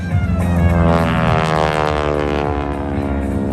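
A propeller-driven aerobatic airplane flies its routine at the 2022 Edwards Air Force Base air show, its engine a loud, continuous drone with steady harmonic tones that swell slightly early on and then hold level throughout, with no talk.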